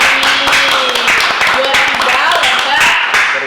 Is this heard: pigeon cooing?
no